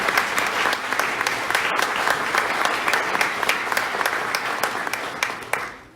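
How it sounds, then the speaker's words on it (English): A school-district audience of teachers at a town hall meeting applauds steadily and loudly, a dense wash of clapping that holds throughout and tapers off at the very end. "Could we please give them a big round of applause?"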